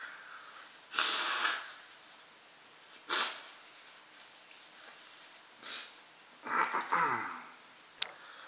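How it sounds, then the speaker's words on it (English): Several forceful, breathy nose blows in short bursts after eating a Chocolate Scorpion pepper pod, with quiet pauses between, close up, the last ones coming in quick succession. "Blow my nose here."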